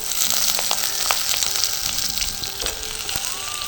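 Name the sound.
potatoes and taro frying in oil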